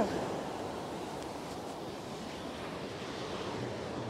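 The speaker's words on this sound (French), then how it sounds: "Waouh, il y a une méga vague." Ocean waves breaking on the sandy beach at Pornichet, a steady broadband wash of surf with wind noise on the microphone, continuous and fairly loud with no distinct individual crashes.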